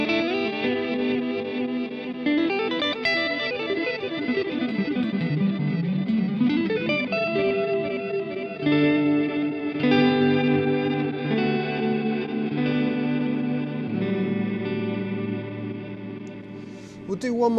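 Guitar played through a Boss DD-500 digital delay pedal on its canyon delay setting, loud and continuous, with wet, smeared repeats trailing behind each note and chord and no talking over it.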